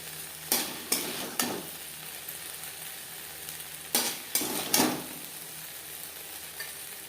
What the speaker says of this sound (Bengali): হাই ফ্লেমে দু তিন মিনিট নাড়াচাড়া করে নেব